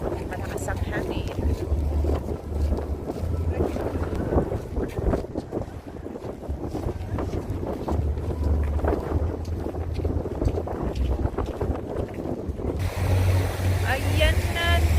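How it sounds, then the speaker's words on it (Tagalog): Strong seaside wind buffets the microphone with constant low rumbling gusts. Voices talk intermittently over it, with boat and water sounds in the background. "Malakas ang hangin."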